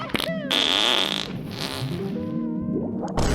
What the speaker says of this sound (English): Very nice fart